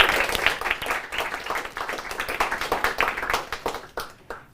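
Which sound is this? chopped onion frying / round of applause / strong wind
round of applause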